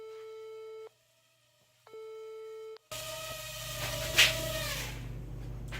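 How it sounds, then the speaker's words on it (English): Low-voltage cutoff warning from a WLToys V343 Seaglede RC drone, two steady electronic tone bursts with a pause between them, then a phone alarm clock chiming over a constant hum until the end. "that's the LVC warning along with my alarm clock on my phone"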